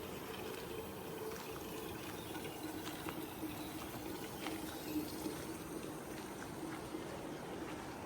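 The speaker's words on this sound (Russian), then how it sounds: "Там вот река шумит где-то" A steady, broad rush of flowing river water in Abkhazia, heard from some distance, continuous and fairly faint with no voices.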